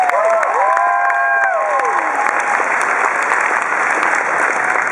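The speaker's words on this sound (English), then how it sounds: "big round of applause for you guys" Convention crowd at Emerald City Comicon applauding and cheering loudly and steadily, with a few whistle-like tones rising over the dense clapping early on.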